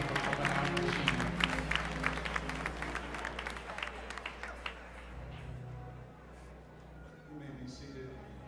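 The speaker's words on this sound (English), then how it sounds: "Let's applaud him greatly for coming out and achieving." A church congregation claps and cheers with a crowd murmur over sustained organ or keyboard tones, the clapping thinning and fading out partway through.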